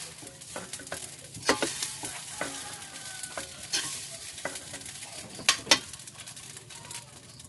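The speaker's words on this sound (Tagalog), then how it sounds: "Yun ang aking sinangag na napakabango dahil sa napakaraming bawang" Garlic fried rice sizzles softly in a pan while a utensil stirs and scrapes through it, giving irregular light clicks and scuffs over a quiet frying hiss, close but faint.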